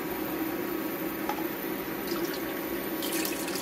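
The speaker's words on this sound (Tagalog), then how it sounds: "So, maglagay na po natin ng 6 na cups ng tubig." Six cups of water pour steadily into a pot, a continuous splashing flow with a few small drips and clinks, no voices.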